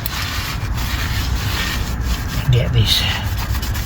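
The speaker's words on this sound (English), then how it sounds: "So I'm now wiping my fingerprints off the disc." A cloth rubs across a brake disc on a 2020 Dacia Duster to wipe off oil and fingerprints, a close, continuous scratchy rubbing, with someone speaking briefly over it.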